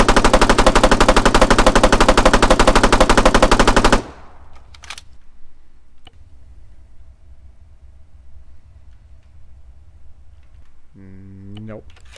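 A Spar 16 5.56mm rifle fires rapid full-auto bursts in Arma 3, a dense, loud, evenly spaced stream of shots for about four seconds, then stops, leaving quiet room noise, a few clicks and a brief voice near the end.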